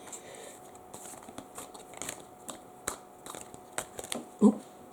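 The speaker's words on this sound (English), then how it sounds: "I'm sure half the video taken up is me shuffling these cards." Tarot cards being shuffled, sparse papery flicks and soft taps close up, ending in a slightly louder card slap, with no talk.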